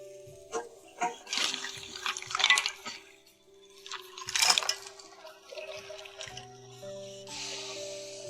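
Water is poured into a pot of crayfish and field snails in uneven, splashing bursts that swell and fade, with steady background tones.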